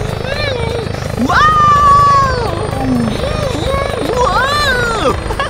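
A large passenger helicopter flies with a steady rotor roar under excited voices and an exclamation.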